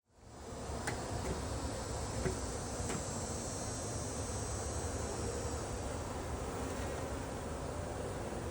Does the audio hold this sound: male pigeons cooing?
no